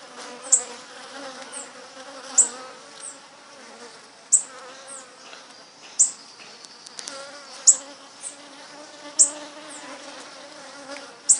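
Bees swarming around sugar water in a city setting, a steady close insect drone with repeated sharper buzzes as individual bees fly past, no voices.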